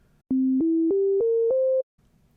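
Five synthesized steady tones built from rescaled harmonics play in order as a rising stepwise scale, each lasting about a third of a second and joined without gaps, clear and alone.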